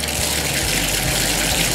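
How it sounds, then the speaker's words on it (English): Cold water gushing steadily from a tap fitted with a Danco 8 single-handle cartridge valve, a continuous close, fairly loud splashing rush with no talk. "Alright, so there is nothing but cold water coming out."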